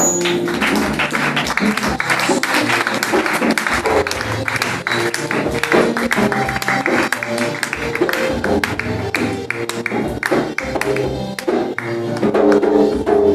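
A church congregation applauding to acclaim Jesus, steady rhythmic clapping from many hands with a few voices mixed in, loud and continuous.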